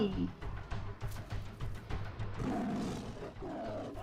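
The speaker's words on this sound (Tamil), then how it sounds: "புலி ஃபைட்டா? புலி." A tiger roars in a movie fight scene, with several rough, growling bursts in an uneven rhythm, played fairly faint and mixed with voices talking.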